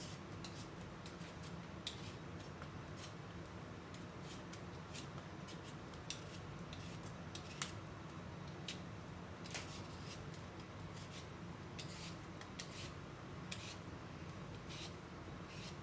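Yukon Gold potatoes are peeled with quick, quiet scraping strokes, a steady run of soft repeated rasps at close range over low background hum, with no talk.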